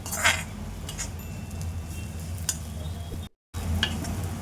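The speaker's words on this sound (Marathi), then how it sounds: "आपल्याला हे सगळं एकजीव होईपर्यंत हलवून घ्यायचं आहे" Garlic and jaggery stirred together in a pan for garlic laddu, with a low continuous sizzle, occasional spoon scrapes and ticks, close by and moderately quiet, without talking.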